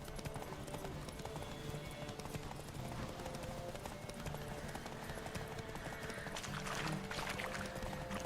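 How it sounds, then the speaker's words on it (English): Steady clip-clop of galloping hooves from the video game Witcher 3: Wild Hunt during a horse race, rhythmic and continuous, with faint background game ambience and a brief louder rush near the end. "Just some horse racing to do right now."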